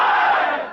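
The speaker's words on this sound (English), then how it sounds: "When we were doing those crowd scenes where they all had to shout out, this is an Arab-speaking crowd" Arabic-speaking film extras shouting together in a crowd scene: a loud, dense roar of many voices at once that tails off slightly toward the end.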